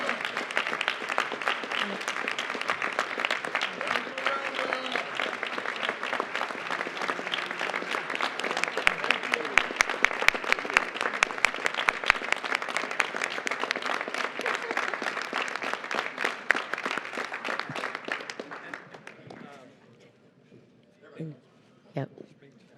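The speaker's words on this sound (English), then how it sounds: "we should give her a standing ovation and round of applause for all that she has done for TAG" A crowd at a Houston mobility event rises in a standing ovation, giving long, loud, sustained applause that tapers off near the end into a few scattered claps and murmurs.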